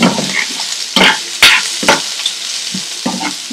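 Onions and curry leaves sizzle in a hot pan while a spoon stirs them, with several sharp scraping strokes breaking through the steady close frying hiss.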